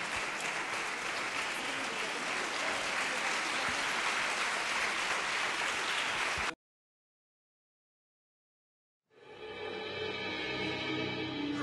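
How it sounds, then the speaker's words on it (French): Audience applause at a film premiere screening, a loud, even burst of many hands clapping for about six seconds, then a sudden cut to silence before sustained music begins. "on va les laisser partir sous vos applaudissements"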